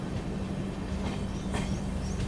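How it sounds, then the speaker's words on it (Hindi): Passenger train rolls into Teliamura railway station with a steady low rumble of carriages on the rails, faint clicking of the wheels and a brief high metallic squeal near the middle. "अभी अपनी ट्रेन पहुंच चुकी है तेलियामुरा रेलवे स्टेशन"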